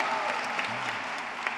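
Steady applause from an audience at a public schools graduation ceremony, a dense wash of clapping that goes on without a break, fairly distant and even.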